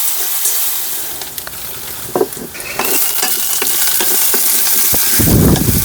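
Moong dal frying in ghee in a home kitchen gives a loud, continuous sizzle broken by repeated spoon scrapes and stirring knocks against the pan, heard close up with no talking.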